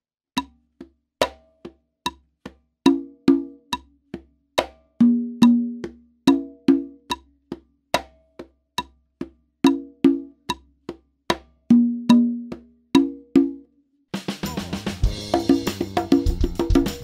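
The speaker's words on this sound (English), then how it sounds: "This is one of my favorite conga patterns on the list." A conga drum pattern for a Motown-style groove, sharp open and slap tones repeating in a steady rhythm for about fourteen seconds, followed by a brief burst of fuller band sound at the end.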